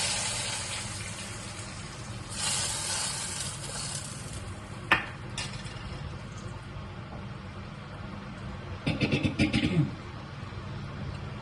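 Hot tempering with curry leaves tipped into a drumstick and coconut curry, giving a steady sizzle with a sharp burst near the end.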